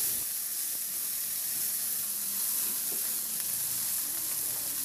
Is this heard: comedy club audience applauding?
no